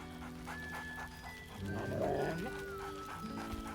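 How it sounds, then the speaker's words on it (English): A dog companion in Baldur's Gate 3 pants and gives a short merry bark, close and fairly faint over a quiet game ambience. "Scratch barks merrily in something like agreement."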